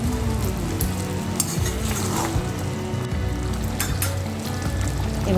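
Chicken and large pieces of fried potato sizzling and stirred in a pan over medium heat for Chicken Dak Bungalow, loud continuous frying with scraping stir noises, a voice speaking briefly over it.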